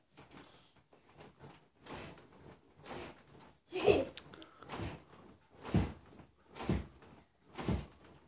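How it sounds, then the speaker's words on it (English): A child working the door of a baby crib, giving a long run of repeated knocks and rattles at a roughly steady pace, with one sharper clack near the middle, close by and moderately loud. "I want you to show Daddy how you open up the door."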